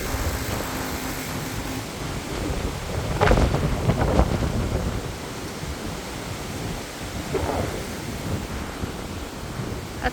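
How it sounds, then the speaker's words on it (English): Strong wind buffeting a microphone outdoors on a very windy day, a continuous low rumbling roar with heavier gusts swelling and fading, loud and close, with no talking. "The wind's so loud"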